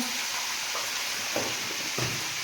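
Greens (shak bhaja) frying in a pan give a dense, continuous bright sizzle close up, with a few soft stirring scrapes and nothing else heard.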